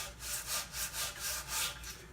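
Coarse 80 grit sandpaper on a sanding block rasps back and forth along the grain of a piece of wood, a close, steady rhythmic scrubbing of about six strokes.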